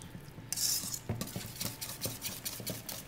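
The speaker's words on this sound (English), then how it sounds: "Go ahead and use a whisk." A whisk stirs lemon meringue pie filling in a bowl. A brief hiss is followed by soft, quick clinking strokes against the bowl, close and faint, with no talking.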